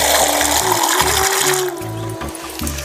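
Water pours in a steady gush for kneading dough, with a pulsing mechanical tone underneath, the flow thinning partway through.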